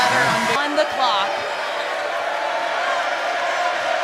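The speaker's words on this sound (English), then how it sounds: "Crowd's starting to get into it." A basketball crowd at Reed Arena, Texas A&M, roars steadily as fans rise to their feet during a game against a press defense, a dense wash of cheering with a few whoops near the start and an announcer talking over it.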